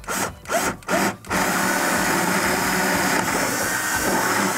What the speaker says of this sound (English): and I'm gonna go ahead and drill my hole.